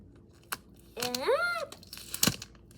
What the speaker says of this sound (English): Now we grab another piece of tape.